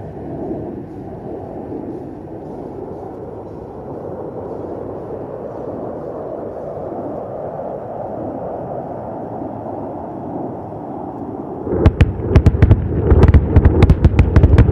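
Air force bombs dropped at a firing range in Pokhran detonate on target: a sustained low roar builds for seconds, then a rapid volley of sharp, loud blasts erupts in quick succession.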